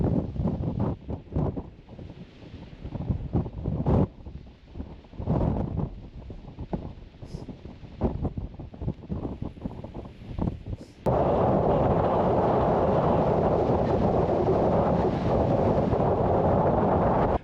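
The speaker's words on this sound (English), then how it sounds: "This wind was supposed to drop off this morning." Strong mountain wind with gusts over 40 mph at a wild camping spot in Wales, buffeting loudly with deep rumbling blasts against the microphone, then building into a constant heavy roar.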